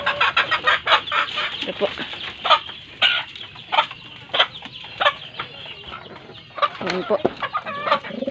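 Pigeons, both flyers and breeders, feed in a loft, giving repeated close calls and fluttering bird sounds while someone talks briefly.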